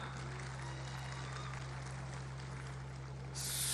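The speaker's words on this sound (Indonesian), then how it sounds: "Tepuk tangan." Sustained crowd applause at a Golkar party anniversary rally in Indonesia, steady and dense over a low constant hum, swelling brighter and louder in the final half second.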